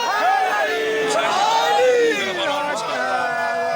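An audience at a Shia majlis chants religious slogans in unison, a loud, continuous swell of many voices rising and falling in pitch for a few seconds.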